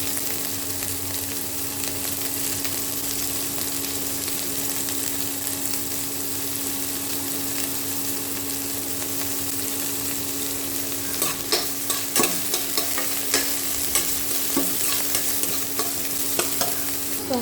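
Garlic and spring onion leaf sizzle steadily in a hot pan, a constant close frying hiss, with scraping stirs and clicks of a utensil growing busier toward the end; no talk.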